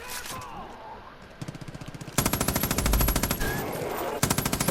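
A light machine gun fires in Far Cry 5, sustained rapid automatic bursts, loud and close, with a brief pause and then a heavier stretch of continuous fire.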